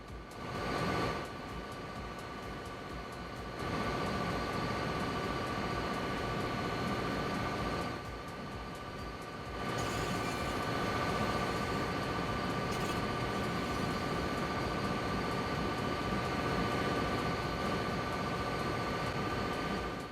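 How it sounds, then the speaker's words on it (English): Train rolling along rail tracks in the DayZ video game, a steady broadband rumble with clattering texture that drops briefly twice before building to a continuous, fairly loud run. "You can hear the train. Different sound effects for when it's going over the tracks and everything."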